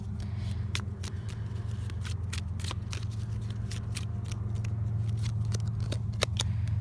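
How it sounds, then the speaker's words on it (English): Tarot cards being shuffled by hand in quick riffling flicks, close up and fairly steady, over a low constant hum. "You'll have to let me know, guys, if you enjoy the shuffling on camera"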